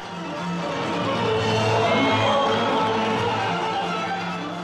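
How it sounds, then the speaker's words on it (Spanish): A crowd of about 5,000 people at the Ankara metro inauguration cheering and applauding Rajoy, a broad roar of clapping and voices that swells in the middle and eases off, with a narrator speaking over it. "Ovacionado y aplaudido"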